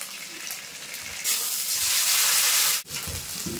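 Ginger, garlic and onion frying in oil with cumin, dried chilli and coriander paste added for chicken kosha, a loud steady sizzle that swells sharply as the paste goes in, then cuts briefly and resumes with stirring.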